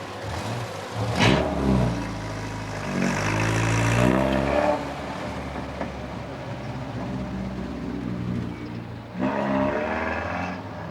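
A 1980s taxi car's engine catches after a push start, then revs and drops in uneven surges, loud and close, with a sharp burst at the start and renewed revving near the end.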